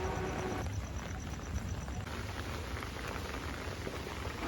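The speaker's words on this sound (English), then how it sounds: "Now it is just drizzling, but it is just a momentary pause before the big event." Light drizzle at the Kanheri Caves makes a steady, soft hiss of rain on surfaces, even and continuous throughout, fairly faint, with no voices.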